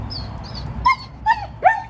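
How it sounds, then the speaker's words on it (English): A dog gives three short, high yips or whiny barks, close by, separated by brief pauses. "Barking Bella."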